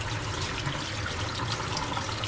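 Running water rinses dye out of a blue and green spiral tie-dye pillow case, a steady, full rushing splash from a tap that holds even and close for the whole stretch.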